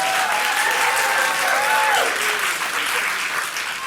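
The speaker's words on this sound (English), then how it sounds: "your applause is going to be loud and it's going to be strong" A large theater audience applauds loudly and steadily, dense clapping that swells slightly then eases toward the end.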